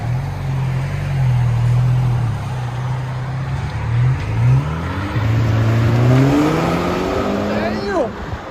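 A 2012 Audi A4 2.0L turbo with resonator and muffler delete idles loud and close, then revs in rising and falling sweeps before pulling away, with people talking nearby.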